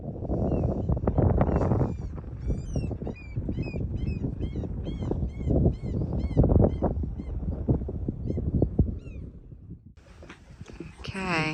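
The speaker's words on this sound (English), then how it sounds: "Okay, duck family's heading to shore for the night." A duck family with four ducklings moves toward shore for the night on the Isle of Skye, and several high, repeated peeping and honking calls rise over steady wind and nearby talking.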